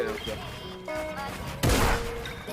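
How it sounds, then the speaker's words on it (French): A loud burst of gunfire in a competitive video game shooter showmatch, one sharp blast cluster following game sounds, with commentary talk running over it. "première balle tentée de Babsy qui passe pas"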